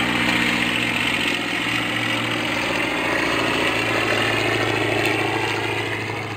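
Vintage aircraft engine in flight, a loud, continuous droning roar that holds steady throughout with only slight swells.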